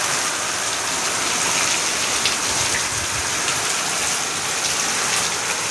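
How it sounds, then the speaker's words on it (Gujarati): Steady heavy rain pouring down on surfaces at a village home, a dense, continuous hiss of drops close by with no pauses. "વરસાદની મોજ લઈએ છીએ"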